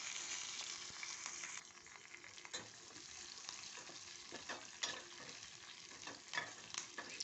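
Chillies, onion and curry leaves fry in hot oil for a greens curry, giving a steady close sizzle with faint stirring scrapes and small pops throughout.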